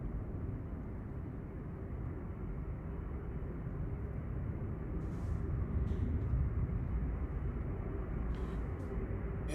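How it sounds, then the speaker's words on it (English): An Aer Lingus airliner on approach to Manchester Airport gives off a steady low rumbling drone that builds slightly as it draws nearer, distant but continuous, with no voices over it. "Here is the Aer Lingus on approach, EIK."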